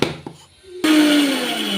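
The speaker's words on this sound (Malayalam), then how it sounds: "ഒന്ന് കറക്കിയെടുക്കട്ടോ." A kitchen mixer grinder whirs into action, grinding green chillies, red chillies and coconut in its jar: a few soft clinks first, then a sudden loud motor roar that continues steadily at close range.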